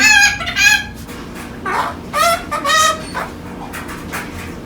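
A pet bird calls out in loud, close, harmonic squawks and chatter, several separate bursts with short pauses between them, alone with no talking.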